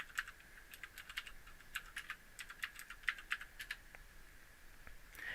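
Rapid, uneven clicking of a computer keyboard as someone types a search, a close run of light keystrokes with short pauses, faint and alone without any voices.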